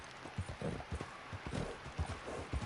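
Hooves of a weak, tired horse clip-clop steadily downhill in Red Dead Redemption 2 online, a quiet, regular rhythm of low thuds over nearly three seconds, with no talking.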